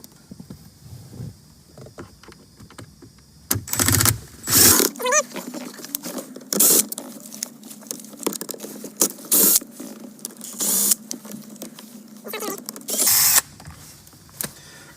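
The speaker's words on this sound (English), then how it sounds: "they were being held on by some tabs here that you heard pop right off" Plastic interior side panel tabs on a 2016-era Nissan Maxima popping loose, giving a series of sharp, close clicks and snaps with some creaking and rustling between them, no talk over it.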